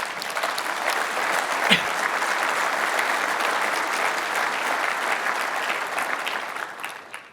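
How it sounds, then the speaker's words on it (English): Sustained audience applause at a trade show president's address, dense even clapping from a large crowd that carries on throughout and tapers off at the very end. "Give yourself a round of applause."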